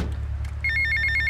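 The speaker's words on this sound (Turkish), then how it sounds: "Telefonumuz çalıyor." A telephone rings in the game GTA Vice City: a bright electronic trill in quick repeated bursts starts partway through and continues steadily over a low game background hum.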